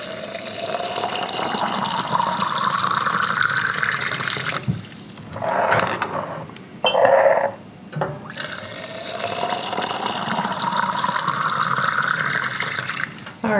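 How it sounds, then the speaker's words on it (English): Water pours steadily into canning jars for several seconds, pauses with a few short gurgling splashes, then flows again at a constant rush. "we'll just head over and we'll top these off with some water."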